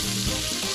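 Carrots fry in hot oil and butter infused with thyme, a dense, close, continuous sizzle over a brief moment with no voices.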